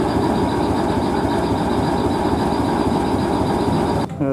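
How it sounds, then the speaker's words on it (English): A passenger train in Adelaide, Australia, gives a steady, loud, continuous rumble with a broad mechanical roar that holds evenly and then drops off abruptly just before the end. "Here's our train that we're on."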